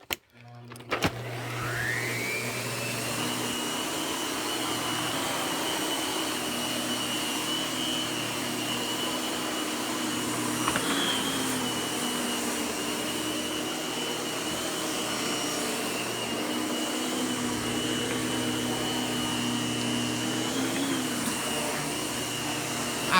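A Miele upright vacuum cleaner starts with a thump and runs steadily, its motor whine settling into a constant drone with a low hum underneath and brief shifts in pitch as it moves across the floor.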